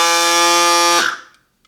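Electric tire inflators, a CYCPLUS and a Topeak E-Booster, run with a loud, steady high-pitched whine close by for about a second before cutting off abruptly and fading into silence.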